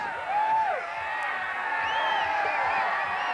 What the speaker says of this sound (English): Oh, the crowd's loving it.